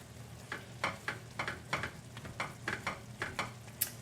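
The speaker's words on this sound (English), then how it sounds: "I'm just going to give this a little bit of a stir" Skillet chicken with peaches and rosemary gets stirred in the pan, a quiet series of short scraping, sizzling strokes at a regular rhythm, about a dozen close, soft pulses.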